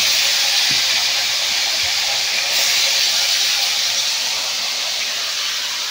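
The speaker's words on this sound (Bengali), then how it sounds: "মাছটা আমি ভেজে নেব।" Hilsa fish frying in hot oil, giving a constant, dense hiss that stays loud and even throughout, with a faint low clunk or two underneath.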